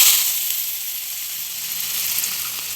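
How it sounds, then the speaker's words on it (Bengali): Potatoes tipped into hot mustard oil with chillies, giving a steady, close hiss of sizzling that runs throughout without any talk. "এরপর আলুগুলো দিয়ে দিচ্ছি"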